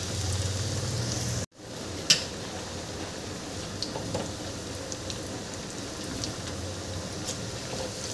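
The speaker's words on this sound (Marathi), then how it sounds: "मी याला छान खरपूस तळून घेते." Kothimbir vadi, coriander fritters, crackle in hot oil over medium heat: a constant dense sizzle with a brief dropout and one sharp tick near the start.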